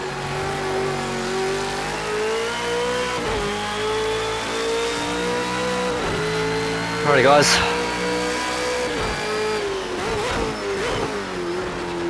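A race car engine in the Project Cars 2 video game drones and revs continuously around the Bathurst Mount Panorama circuit, pitch rising and falling as it shifts gears; someone speaks briefly at the start.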